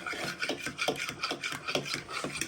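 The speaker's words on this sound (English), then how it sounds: "with a fork, you want to start whisking these" A fork beats eggs and milk in a bowl, quick and close: a steady run of light, scratchy, rhythmic strokes with no voices.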